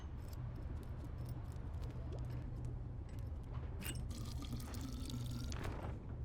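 Fresh water being drawn in the 2D action game Tails of Iron: steady faint trickling and dripping liquid with scattered brighter drips and splashes, continuous and quiet throughout.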